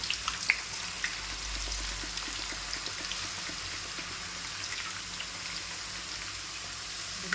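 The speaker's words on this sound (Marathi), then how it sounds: "जसं हे वेफर्स तेलात तळत आहे" Thin raw banana slices fry for chips in hot oil, giving a dense, steady close sizzle with fine crackles that continues throughout with no voices.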